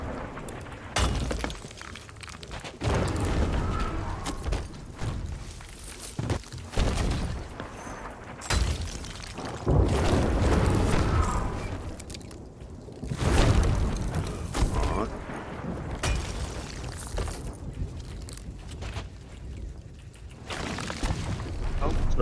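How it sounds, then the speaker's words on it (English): Cannon fire in the video game Sea of Thieves, heavy booming blasts with crashing, splintering impacts recurring irregularly across the stretch, loud and close, mixed with players talking. "So who's firing cannon?"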